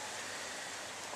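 Rain falls steadily at night on an overgrown lawn, a dense, even hiss that is continuous and fairly close, with no voices.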